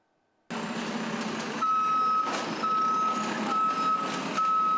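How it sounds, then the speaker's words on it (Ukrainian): A municipal utility truck working in a city street sounds steady, repeating reversing beeps over a loud diesel engine drone, starting abruptly after a short silence and continuing close by. "у Запоріжжі звідусіль чути, як працює комунальна техніка"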